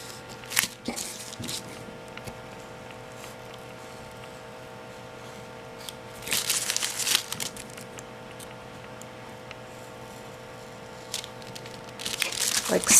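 Paper or card cut out into a shape for a mixed media medallion, with short bursts of crisp snipping and rustling at intervals over a steady background hum, close by.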